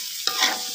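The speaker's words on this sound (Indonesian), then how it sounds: "Memasak tumis jamur." Mushrooms sautéing in a pan, a brief close burst of sizzling and hissing as a spatula stirs through them, loud and alone with no speech.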